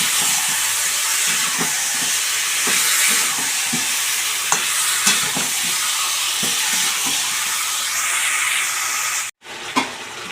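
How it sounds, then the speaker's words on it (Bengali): Chicken for chicken kosha sizzles and fries steadily in a pan, with close scraping stir strokes breaking through the constant hiss and a brief pause near the end; no one speaks. "যে মাংস কষানো চলছে, অনেকক্ষণ ধরে কষাচ্ছি।"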